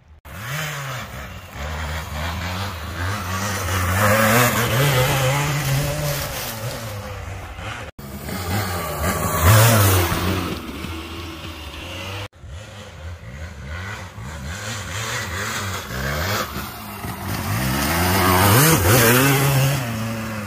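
Trail motorcycle engine, a Kawasaki KDX220 or Honda XR80, revs hard and steadily as the bike climbs a hill, loud and close with rising and falling throttle and brief breaks in between.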